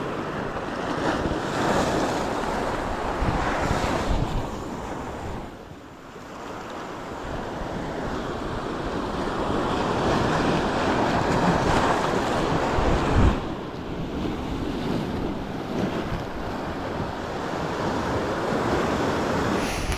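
Rough, somewhat murky sea waves wash onto the shore in a steady loud roar, with wind buffeting the microphone and no voices.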